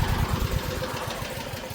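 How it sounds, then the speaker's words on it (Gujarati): A Mahindra Yuvraj tractor engine idles nearby with a quick, even low-pitched chugging pulse, fairly quiet and steady over a short stretch. "કયું ટ્રેક્ટર છે ને યુવરાજ મહિન્દ્રા યુવરાજ"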